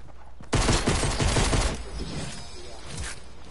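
Video game gunshots: after a quiet moment, a loud, dense run of rapid fire lasts about a second, then drops into quieter scattered shots with one more sharp crack near the end.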